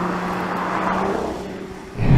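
A Nissan Z sports car with S-Tune engine, suspension and brake upgrades drives along with a steady low engine drone heard from inside, which swells into a louder rev at the end.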